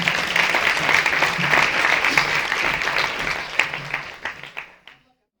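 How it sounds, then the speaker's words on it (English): An audience applauds presenter Crystal Perry at a York, PA youth conference, with steady dense clapping that thins into scattered claps and fades out near the end. "Crystal Perry, please give her a round of applause"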